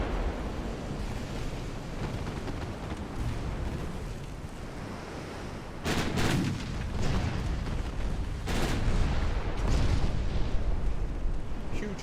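In the naval game Ultimate Admiral Dreadnoughts, heavy shell hits strike a destroyer and sink it: deep booming blasts rise out of a steady roar like sea and wind, with two sharp bursts standing out.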